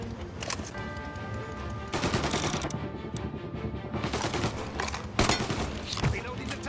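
Tommy gun fire during a gangland shootout in Mafia: Definitive Edition, coming in loud bursts separated by quieter gaps, with voices shouting in between.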